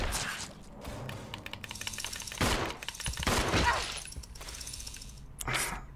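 Shotgun blasts in the video game Resident Evil 0 boom loud and close amid crunching impacts and rapid clattering game effects over several seconds.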